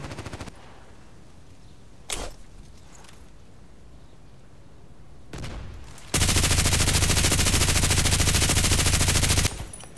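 A few sharp single shots crack out in the online shooter Contract Wars, then a loud sustained automatic burst rattles for about three seconds before cutting off, with quiet stretches between.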